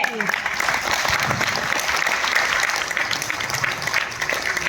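Audience at a network marketing seminar clapping for themselves, a steady wash of applause from a roomful of people, moderately loud and continuous with no speech over it.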